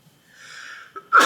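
A single close sneeze: a brief wheezy inhale building up, then a sharp, loud burst at the end.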